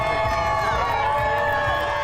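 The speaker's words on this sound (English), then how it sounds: "A cheer for love" A crowd cheers at Denver's Pride Parade, a dense, continuous wash of voices and shouts, some of them children's, that stays steady and fairly loud throughout.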